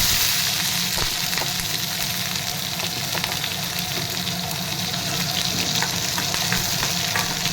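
Green chillies hit hot oil already crackling with mustard seeds and cumin while cooking moringa leaf palya, a loud continuous close sizzle with faint stirring clicks and no speech.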